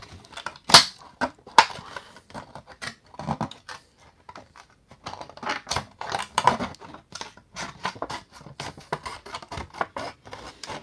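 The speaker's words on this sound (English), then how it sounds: "I should have grabbed my smaller scissors." Large scissors cut through a toy's cardboard card backing in irregular bursts of crisp snips and crunches, close and fairly loud with brief pauses and no talk.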